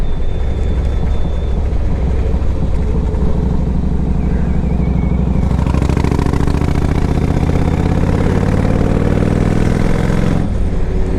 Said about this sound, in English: This bike's definitely got a nice sound to it.